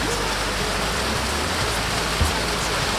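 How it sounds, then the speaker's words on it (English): Steady, broadband rushing of a small forest waterfall at Karura Forest in Kenya during the dry season. The wash is continuous and fairly close, with no talk over it. "Karura Forest Waterfall."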